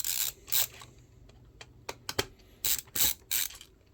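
Small screws are being turned out of a Nintendo Switch Online SNES controller with a screwdriver. Close, crisp clicks and short ratchety scrapes come in irregular bursts against quiet room noise.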